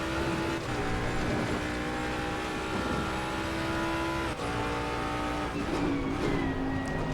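A Jaguar race car from Assetto Corsa Competizione, at Oulton Park, holds a steady loud engine drone throughout, with shifting revs and a brief dip mid-run while the throttle is fed through a corner.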